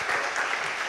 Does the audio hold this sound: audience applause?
yes